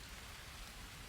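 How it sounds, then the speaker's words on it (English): Rain falls in the jungle survival game Green Hell, a steady, soft broadband hiss of drops spread evenly with no other sounds, quiet throughout. "right now it's raining"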